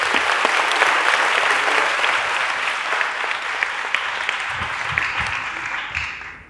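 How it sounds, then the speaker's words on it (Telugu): Congregation applauding at a church feast with first holy communion celebrations, loud dense clapping sustained for several seconds before gradually thinning and fading out at the end. "గట్టిగా చప్పట్లు కొడదాం"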